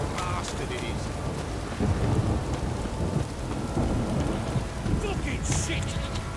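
Heavy downpour in The Witcher 3, steady loud rain hissing on surfaces with low rolling thunder rumbling underneath and a few sharp drips and splashes near the end.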